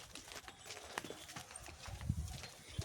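A cow walks briskly behind a person on a village path, its hooves landing in quiet, uneven thuds and clops, with a few heavier steps toward the end.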